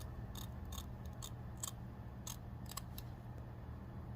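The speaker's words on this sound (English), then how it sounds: "let's trim the lace at the nape" Scissors snip through wig lace at the nape in a series of sharp, close, crisp cuts, about ten irregular snips spaced over a few seconds against a low steady hum.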